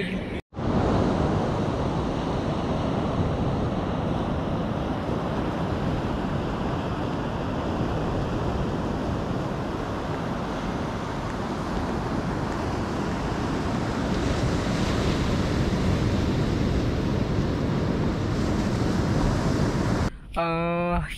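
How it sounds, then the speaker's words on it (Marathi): Sea waves breaking on Velas beach on the Konkan coast, a loud continuous roar of surf mixed with heavy wind buffeting the microphone, with no voices. "हा जो माझ्या मागे तुम्ही पाहताय हा वेळास बीच आहे."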